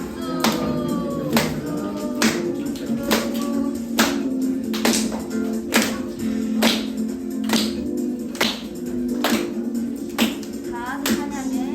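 Children at an elementary Sunday school worship service clap in a steady rhythmic beat, about one clap per second, with a faint voice in the background.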